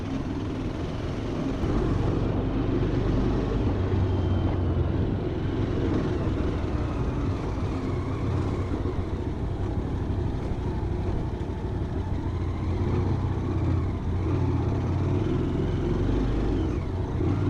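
A BS6 Mahindra Mojo motorcycle pulling hard as the throttle opens after a downshift, a loud continuous engine roar with heavy low rumble and wind, no pauses.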